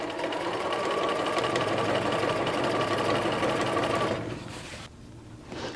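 A sewing machine hums steadily while stitching a dress hem facing for McCall's 7862, close and even for about four seconds before the motor slows and stops, with a short final burst.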